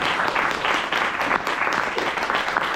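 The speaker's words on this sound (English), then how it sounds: "Give yourselves a round of applause." Attendees of a Toastmasters speech evaluation workshop applaud themselves with sustained, fairly loud clapping from a moderate crowd, keeping a steady, slightly pulsing texture throughout.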